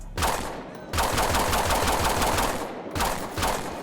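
Rapid Glock pistol fire with a bodycam-style sound mod in GTA 5, fast evenly spaced shots in two long bursts separated by short pauses, loud and close.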